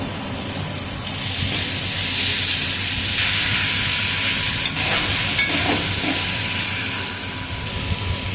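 Potatoes and fried cauliflower sautéing in tomato masala in a pan, dhaba-style gobi aloo: a steady close hiss and sizzle with occasional stirring scrapes, no voices.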